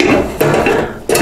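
Brief clunking and knocking of an Aicok bread maker pan being clamped into place, a few close hard taps and a rattle over about a second.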